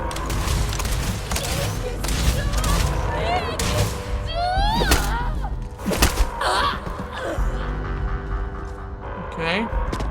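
Video game gunfire comes as bursts of shots and thuds over a busy mix of game effects, with a voice talking over the action throughout.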